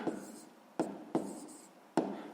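Handwriting on paper during a sixth-grade math exercise, quiet scratchy pen strokes close up with four sharp taps or stroke starts at irregular intervals.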